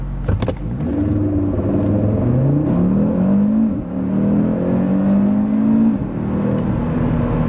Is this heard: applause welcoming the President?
no